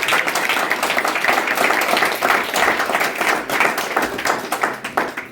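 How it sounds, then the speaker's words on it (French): Steady, dense applause from a hall audience at a community organisation's installation ceremony, many hands clapping continuously and fairly close, fading slightly toward the end. "Est-ce qu'on peut les acclamer très très fort?"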